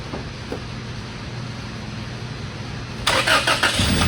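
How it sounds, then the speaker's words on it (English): A first-generation Toyota Tacoma pickup with a 2.7L engine cranks and fires up about three seconds in, the broadband start rising abruptly to a loud, steady running roar after a low ambient hum. "We'll go ahead and we'll start up the truck"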